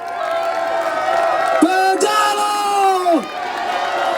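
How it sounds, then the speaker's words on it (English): A crowd at a Tibetan uprising anniversary rally in Europe cheers and whoops loudly throughout, with sustained yelling voices and rising shouts filling the space rather than distinct clapping. "Could you please applaud him?"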